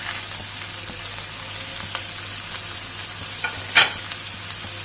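Chopped onion, garlic, green chillies and curry leaves sautéing in a pan, giving a loud, continuous sizzle with soft stirring scrapes and one sharper clatter near the end.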